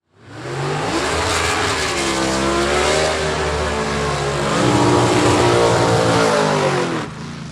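Ford and Chevy gasser drag cars launching in a Super Stock final, a loud raw engine roar that swells and climbs in pitch as the cars pull away, steady and close, then cuts off abruptly at the end.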